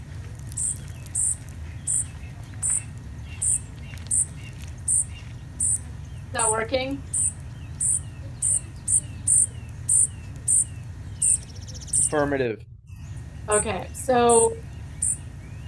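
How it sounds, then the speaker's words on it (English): High-pitched squeaks from baby birds repeat in a steady rhythm over a low hum, while people talk briefly in between. "the squeaking noise is what you're looking for. That is the sound of baby birds."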